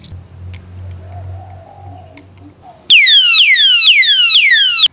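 A cheap motorcycle disc lock alarm blares suddenly after quiet low rumble and a few clicks, a loud, piercing repeating electronic siren sweeping downward in rapid cycles, sustained close up to the end.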